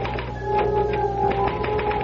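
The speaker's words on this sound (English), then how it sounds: "I had to get back to that infernal machine. The typewriter." A typewriter clatters in a short, continuous run of keystrokes, close and moderately loud over a steady background hum.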